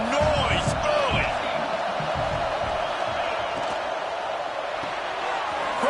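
A college football video game crowd roars and cheers steadily in a stadium, loud and continuous, with whoops rising over the broad wash of noise.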